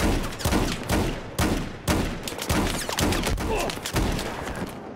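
Gunfire in Battlefield 4 on the Giants of Karelia map in Domination mode, dense rapid bursts of shots thudding in close succession, loud and continuous.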